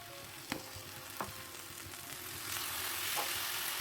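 Poppy seed paste cooks in a pan with boiled papaya and potato, giving a soft sizzle that swells slightly toward the end, with a few sharp utensil knocks against the pan early on and no talking.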